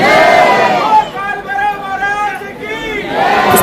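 A dense crowd of devotees at a temple in Ujjain fills the air with loud, continuous massed voices, swelling into chanted, cheer-like calls that rise and fall close by.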